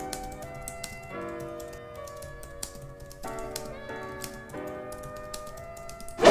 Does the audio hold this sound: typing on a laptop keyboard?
yes